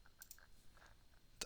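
A computer mouse gives a few faint, quiet clicks in a calm room, ending with one sharper, slightly louder click.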